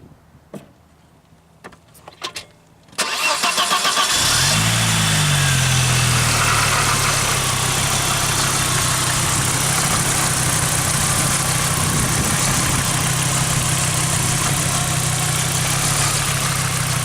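A few soft clicks, then a 1995 Audi S6 engine cranks and catches, settling into a steady, smooth, fairly quiet idle that runs on evenly.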